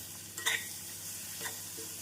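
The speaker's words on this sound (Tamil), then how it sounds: "மாங்காய் சேர்த்து ஒரு நிமிடம் நன்றாக வதக்க வேண்டும்" Chopped onion and raw mango being sautéed in a pan over a medium flame, a faint low sizzle with a couple of brief scraping stirs, quiet and close, no talking.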